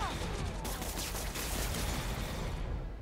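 Gunfire in the video game Marvel's Spider-Man, a sustained burst of rapid shots and booming blasts at steady loudness that fills the whole stretch.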